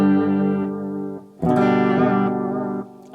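Electric guitar played through a Donner Versa Yellow Fall 2 pedal set to digital delay: two sustained chords, each ringing with repeating echoes and a reverberant tail, the second struck loud after a brief dip.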